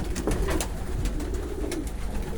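Pigeons coo softly at a pigeon market in Zgierz, low rolling calls rising and falling under a constant busy background din.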